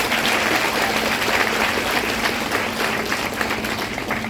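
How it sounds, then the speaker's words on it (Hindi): Applause from an audience at a business workshop in Vadodara, a dense steady wash of clapping that holds at a constant level for the whole stretch, with no voices on top. "तालियां होनी चाहिए उनके नाम"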